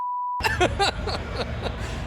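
A steady electronic beep from a pressed button at a TwitchCon 2019 D&D session, one sustained tone lasting under half a second, sounding alone before crowd noise and game audio take over.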